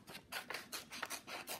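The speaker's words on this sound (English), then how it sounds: "I'm going to take my scissors and I am going to carefully cut this" Scissors snip through white paper while a flower shape is carefully cut out for a spring window craft, with about seven steady, evenly spaced crisp cuts heard up close and with no talking.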